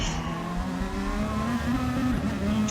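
An F1 race car in a sim racing league video game drives out of a final corner, its high engine whine climbing and shifting through gears, loud and steady with a faint tyre scrub underneath.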